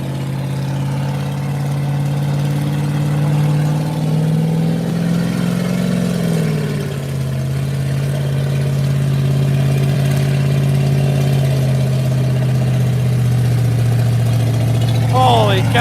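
A hot rod engine idles and revs at a Hot Rod Power Tour burnout event, a steady low rumble with a pitch dip and rise midway, under crowd talk and outdoor noise.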